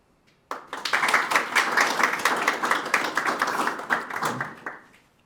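An audience bursts into a sustained round of applause after an archives talk on architecture and Indigenous housing, loud dense clapping starting abruptly and tapering off near the end.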